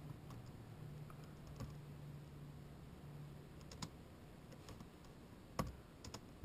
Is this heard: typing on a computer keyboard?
yes